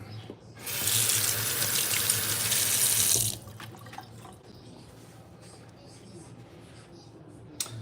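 A kitchen tap runs hard for about two and a half seconds to refill a dog's water bowl, a loud steady hiss of water that cuts off and leaves faint room noise.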